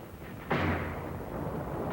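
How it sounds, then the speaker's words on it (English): A single muffled blast from WWII-era 37mm guns or mortars in a 1944 military newsreel booms out, followed by a lingering rumbling decay, distant and dull with old film-recording character. "General Collette sent in tanks to help the Attu veterans of the 7th as they shoved inland with 37s and mortars."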